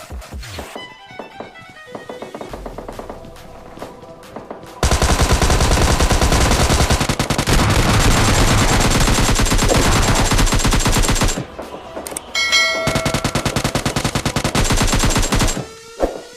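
Automatic weapons fire in PUBG Mobile Lite comes in dense, loud, rapid bursts separated by short pauses, with scattered single shots and footsteps during the quieter stretch at the start.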